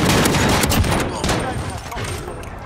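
Dual pistols firing in a video game, a dense, continuous barrage of loud, overlapping shots throughout, with players talking.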